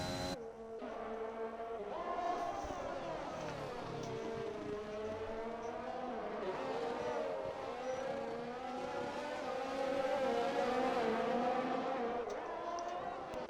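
A race car in an ARC Under 18s round drives on track. A steady, droning engine note rises and falls with the revs, fairly loud and continuous, with no talk over it.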